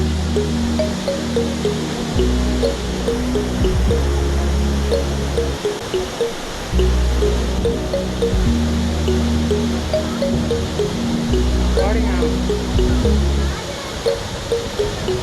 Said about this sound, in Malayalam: വെള്ളച്ചാട്ടത്തിൻ്റെ ശബ്ദം കൂടി വരുന്നു.